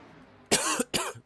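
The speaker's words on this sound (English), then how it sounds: "Excuse me, I'm coughing here." Two sharp, close coughs in quick succession, loud and raspy against a quiet background, during commentary on a sim-racing Daytona 500 qualifying session.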